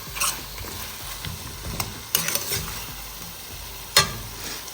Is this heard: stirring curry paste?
yes